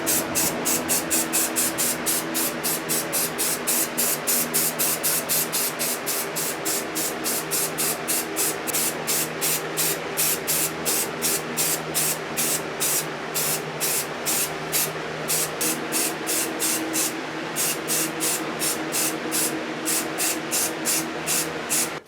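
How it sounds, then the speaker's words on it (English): An HVLP touch-up spray gun lays down gloss black paint on an Alien flamethrower prop in a long string of short, regular hissing bursts, each a quick puff of air and paint, close and loud with no talk. "we're using this HVLP gun. This is a touch-up gun."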